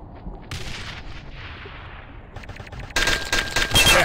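Explosions and heavy gunfire from the online shooter game Offensive Combat: a dense run of blasts and rattling shots, loud and close, swelling into a harsher, louder burst near the end.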